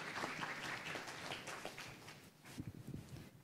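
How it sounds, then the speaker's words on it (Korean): Applause from a symposium audience welcoming a speaker, a fairly quiet, even wash of clapping that thins and turns more scattered, with a few louder separate claps toward the end. "뜨거운 박수 부탁드리겠습니다"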